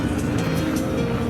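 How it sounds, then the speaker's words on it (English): A 2022 Ferrari Monza SP1 drives in a car parade at the Concours of Elegance, a loud, close, steady engine drone with no voices. "this is the 2022 Ferrari Monza SP1"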